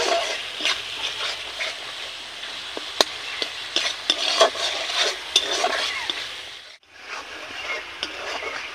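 Masala being stir-fried in a pan with a little water added: a steady close sizzle broken by sharp spoon scrapes and ticks, with a brief hush near the end before the frying resumes.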